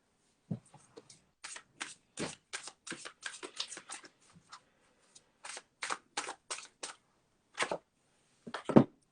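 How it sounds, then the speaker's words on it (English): Tarot cards are shuffled in quick bursts of crisp riffling and slapping, close and clear, with short pauses between flurries and a louder snap at the end. "So let's see what the cards say for Brandy today."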